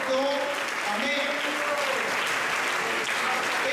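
A church congregation applauds together during a Spanish-language sermon on the Lord's Supper, sustained dense clapping heard beneath a preacher's voice and some faint tonal sounds.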